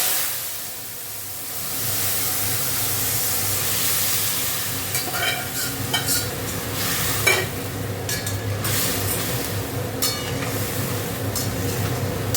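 Radhuni seeds crackle and sizzle in hot oil in a pan, a steady frying hiss with scattered sharper pops, close and fairly loud, with no talking.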